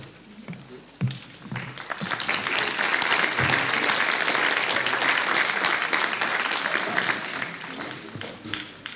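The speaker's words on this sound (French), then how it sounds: "Je n'ai pas l'habitude d'être applaudi quand je commence." After a quiet second, an audience at a university colloquium bursts into applause that stays dense and steady for several seconds before slowly thinning out.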